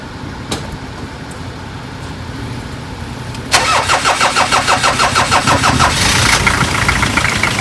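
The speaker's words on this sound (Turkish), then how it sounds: "Bizim araç çalışıp durumda şu anda." A car engine cranks and catches, settling into a steady rhythmic idle that grows slightly louder and rougher, close by with no talking.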